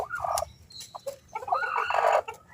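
Chickens clucking in short bursts close by, a few quick calls followed by a longer, louder squawking run.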